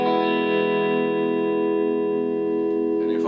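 A 1965-66 Gretsch Tennessee Rose electric guitar played on its neck pickup with normal tone rings out as one sustained strummed chord, clean and full, slowly decaying before a faint touch of string noise at the end.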